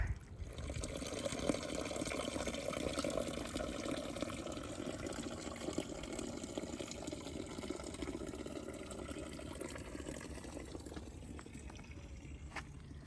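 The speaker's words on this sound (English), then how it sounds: "there are water fountains everywhere, as with many places in Europe" A public street fountain in Stara Zagora, Bulgaria, with water running and splashing in a steady, even wash that carries on without a break and sounds fairly close.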